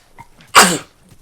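A single loud, sharp sneeze bursts out mid-conversation, abrupt and close, standing alone against a quiet room.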